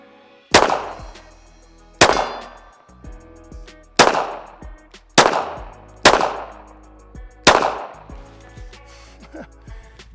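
A Glock G42 pocket pistol chambered in .380 fires six sharp, loud shots at a steady pace about one and a half seconds apart. Each crack is followed by a short ringing decay and faint echo.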